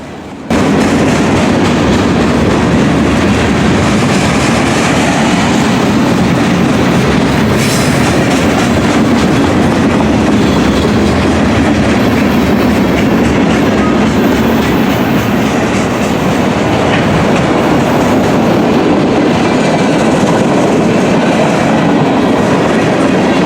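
A freight train led by an SD70ACU locomotive rolls past with gondola cars carrying large pipes, a loud, steady rumble with continuous clickety-clack of wheels on rail joints close by for the whole stretch.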